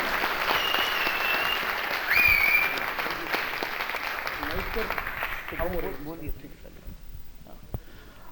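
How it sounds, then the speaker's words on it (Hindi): A theatre audience applauds two performers after a play, a loud sustained wash of clapping that fades over the last seconds, with a few voices audible as it dies down. "एक बार जोरदार तालियों से हौसला अफजाई कीजिए दोनों कलाकारों का।"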